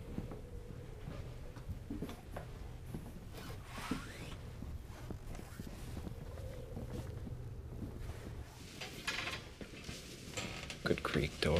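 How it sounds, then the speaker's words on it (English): A door creaks open inside a derelict, abandoned hotel in a found-footage horror setting. The drawn-out creak is moderately faint and sits over steady wind-like hiss and handling noise. "Good creak door. Good creak."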